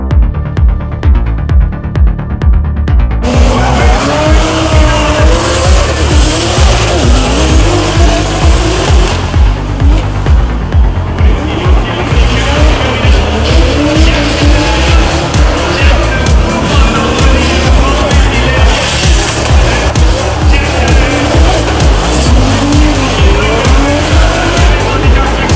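Drift cars at a pro drift competition roar loudly and continuously as their engines strain, with long screeching tire squeals and skids layered over the engine noise throughout.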